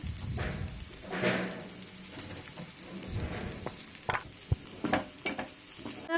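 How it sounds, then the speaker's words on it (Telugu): Chillies and tamarind fry in a pan with a steady close sizzle, joined by scraping stirs and sharp spatula taps against the pan toward the end. "మిరపకాయి కొంచెం చింతపండు కూడా ఇప్పుడే వేసేసుకుంటున్నానండి మగ్గితే బాగుంటుందని కాస్త ఫ్రై అయ్యాయండి"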